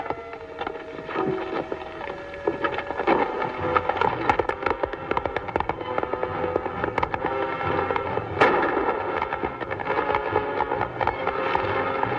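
Gunfire in a 1940 western film, a dense, continuous barrage of cracking shots and echoing bangs layered over orchestral music, loud and sustained throughout without pauses.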